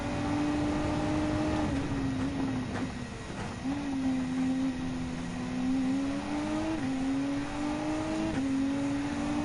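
Road and race cars, including a WRX Group 3 and a Vantage GT3, race in the video game Gran Turismo 7. A steady, loud engine drone rises and falls through gear shifts, with continuous revving throughout and no talking.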